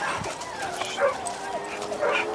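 A spaniel at a hunting-dog club in L'Ametlla de Mar, Tarragona, yips and whimpers in short high cries, with people talking nearby.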